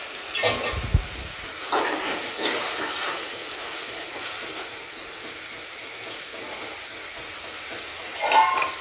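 Potatoes and vegetable stalks frying in a pan for a fish curry, giving a steady, even sizzle and hiss close by with a few faint clinks and no talking.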